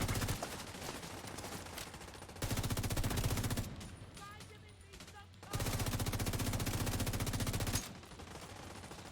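Gunfire from shooting in The Division 2 comes in long, rapid automatic bursts, loud and sustained, with a brief quieter lull between volleys.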